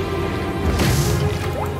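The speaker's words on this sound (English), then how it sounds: "Water refill complete." A water tank refilling aboard a cleaning robot in the video game Beyond a Steel Sky: a short liquid gush and dripping swell briefly mid-clip over a steady machine hum, close and moderately loud.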